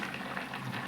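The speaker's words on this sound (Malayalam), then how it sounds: "തിളച്ച് കുറുകി" Fish curry bubbling as it boils and thickens in a pot on a gas stove, a steady soft simmering hiss with gentle bubbling throughout, close and alone.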